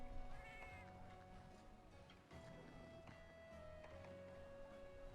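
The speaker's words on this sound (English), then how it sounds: "you get his opening meow" A Palico cat in the Monster Hunter game lets out short, bright meows near the start, followed by a longer sustained cat call over steady game music and ambience.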